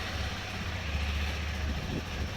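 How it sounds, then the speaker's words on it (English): A KTM 390 Adventure motorcycle engine runs at a steady idle, a low, even rumble with a constant hum, close and continuous with no talking. "I'm turning on the engine so that it won't affect my battery."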